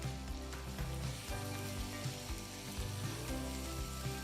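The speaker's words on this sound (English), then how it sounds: "I want to keep a really good sizzle going" Steady, dense sizzling of onions frying in a hot pan, continuous and close, with faint stirring bumps and no talking.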